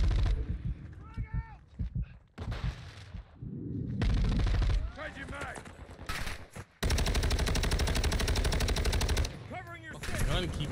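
Rapid bursts of automatic gunfire and single shots in Modern Warfare II online multiplayer fire close and loud in long stretches, with short gaps between them and a player's voice talking over parts.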